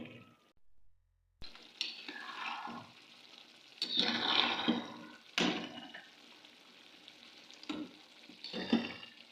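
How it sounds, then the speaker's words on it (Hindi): Chicken and turnip curry cooks in a pan on medium heat, with bursts of sizzling and stirring scrapes coming in separate swells amid quieter gaps and close clatter. "इसको बिल्कुल मीडियम आंच पर पकने के लिए मैं रख दूँगी"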